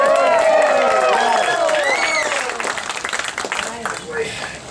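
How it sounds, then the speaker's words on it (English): Crowd at an alligator show on a Miami cruise trip, applause and cheering swelling under a loudspeaker announcer's voice, with whoops and shouts mixing in before the clapping thins out. "All right, how about a big round of applause?"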